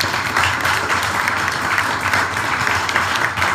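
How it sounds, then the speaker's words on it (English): Applause rolls steadily from a crowd at an election count after a sitting MP's re-election, a dense, sustained wash of clapping that fills the hall without a break. "they deserve a round of applause too"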